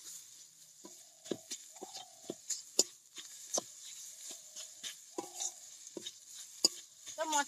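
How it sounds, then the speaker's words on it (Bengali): Cumin powder and spices being sautéed in a pan for pea ghugni, with scattered scraping and stirring strokes from a spatula and a light sizzle running underneath. "সানরাইজের জিরা গুঁড়ো, এগুলো আমি ভালোভাবে কষিয়ে নেব।"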